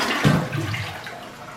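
A toilet flushes with a little paper in the bowl, failing to carry the paper down: a sudden loud rush of water that swells, then fades into a softer trickle and gurgle, close by with no talking.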